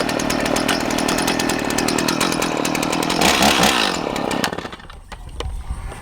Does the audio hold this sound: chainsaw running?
yes